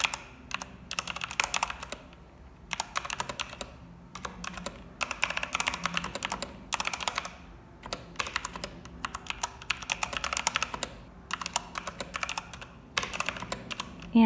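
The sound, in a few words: mechanical keyboard typing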